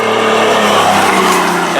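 A Nissan 350Z fitted with a 1JZ engine drives under its own power, giving a loud, continuous engine roar with a tire-scrub edge, close by and filling the whole moment without talk.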